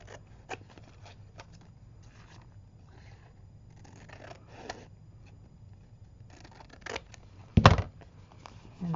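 Scissors snip paper in a series of soft, scattered cuts, ending with a louder crisp rustle near the end, close by.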